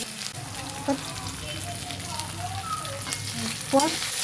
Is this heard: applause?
no